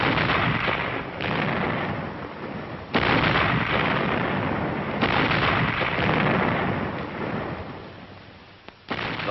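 A 1945 artillery regiment fires a synchronized barrage, with loud overlapping booms and sustained rumbling blasts that follow one another, heard on an old muffled wartime recording.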